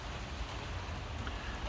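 Rain falling at a marina, a soft, even wash of steady patter with no breaks and no talk.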